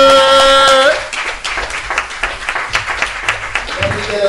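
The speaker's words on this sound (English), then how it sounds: "Let me get a round of applause for Crystal Soul Jordan." A live poetry audience at the Five Spot breaks into applause, a close, steady patter of clapping hands that follows a fading musical tone.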